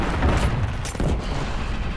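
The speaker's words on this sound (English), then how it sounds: "This is another like rapid fire sniper rifle" Rapid sniper rifle fire from the STA14 in the video game Killzone Shadow Fall, a dense burst of loud, booming shots packed closely together over a constant rumbling battle backdrop.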